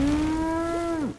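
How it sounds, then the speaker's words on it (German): A single cow in the video game Far Cry New Dawn lets out one loud, close, sustained moo that holds a steady pitch before dropping off at the end, with no talk over it. "Wieso stand da eine Kuh?"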